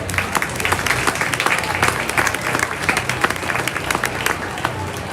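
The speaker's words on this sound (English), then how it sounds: "let's give those kids a nice round of applause" A crowd at a county fair junior beef show claps for the kids in a sustained round of applause, dense overlapping claps with a few voices mixed in.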